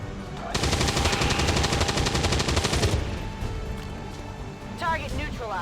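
Automatic gunfire rips out in XCOM 2 War of the Chosen as a rapid, loud burst of about two and a half seconds, followed by quieter game sounds and a short electronic warble.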